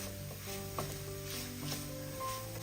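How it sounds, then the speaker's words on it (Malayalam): Banana and sugar being stirred in a hot pan over lowered flame: faint, soft sizzling with light scraping stir strokes and occasional clinks, quiet and close, with cartoonish tones lingering faintly in the background. "പഞ്ചസാരയും കൂടെ ചേർത്ത് ഒന്ന് ഇളക്കി കൊടുക്കാം"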